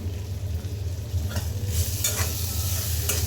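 Pressed dried fish (chapa shutki) goes into a hot frying pan, where a low steady hum is overtaken by a louder, brighter sizzle and a few bursts of crackling.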